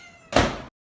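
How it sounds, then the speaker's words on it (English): A single short cat meow, fairly close and clear, lasting under half a second and then silence. "That sounds like a kitty cat."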